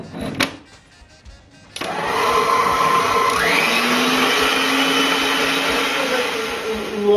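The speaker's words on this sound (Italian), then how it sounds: "Adesso ho messo 100 g di zucchero col burro, lo monto." An electric mixer whirs steadily and loudly, close by, as it creams 100 g of sugar with butter for a Torta Caprese. The whine rises in pitch midway and keeps running to the end.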